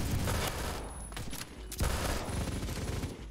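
Gunfire from the Phantom Forces first-person shooter game, rapid bursts of shots packed densely over a noisy game background, loud and continuous with no talking.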